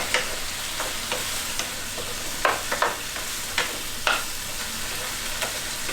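Onions frying in a pot of chicken and vegetable soup, stirred with a wooden spoon: a continuous close sizzle with soft scraping strokes of the spoon at irregular intervals.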